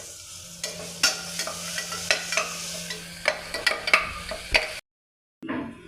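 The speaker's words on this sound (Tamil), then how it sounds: "இப்போ சிக்கனை ஆட் பண்ணுறாங்க சிக்கனை ஆட் பண்ணியாச்சுங்க" Chicken pieces from a country rooster hit hot oil with ginger-garlic paste, sizzling steadily with repeated sharp scrapes and clatters of stirring, then a sudden cut to silence before the frying resumes briefly.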